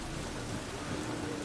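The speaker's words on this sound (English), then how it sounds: "Looks like rain." Rain in The Witcher video game, a steady dense hiss of falling rain with a low rumble underneath, unbroken and even throughout.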